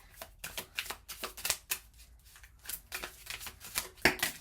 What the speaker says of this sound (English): Okay, so I just shuffle the cards.